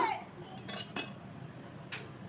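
A spoon scooping food out of a pan, several quick metallic scrapes and clinks spaced apart over a faint background, with no talking.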